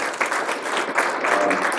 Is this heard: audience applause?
yes